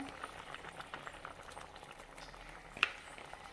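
Mushroom curry (kaalan kuzhambu) simmering in a pot, a soft, steady bubbling with small pops and sputters, faint and close, with one sharper pop near the end and no talking.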